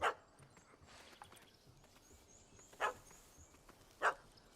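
A puppy barks in The Witcher 3 video game, three sharp yips spaced across the stretch over quiet ambient game sound, moderately close and without talk.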